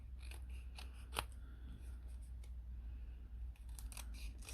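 Scissors cutting brown corrugated cardboard for a miniature room: a series of crisp snipping and crunching cuts, close to the microphone and alone, with one louder snap partway through.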